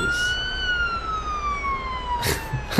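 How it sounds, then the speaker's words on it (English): A single electronic ambulance siren in a police simulator video game wails in a long, smooth tone that slowly rises and falls, with brief bursts of noise near the start and end. "That's the ambulance I can already hear."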